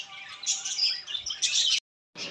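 Pet parrots chirping and tweeting in quick overlapping bursts, fairly close, that cut off into a short silence before another burst of calls resumes.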